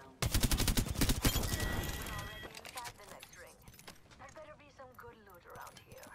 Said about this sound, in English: They're shooting over here